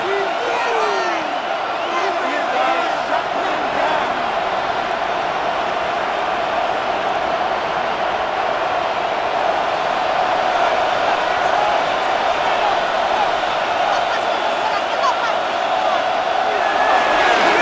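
A large stadium crowd in the American football video game Madden NFL 26 roars steadily throughout, a dense, continuous wash of cheering with no break.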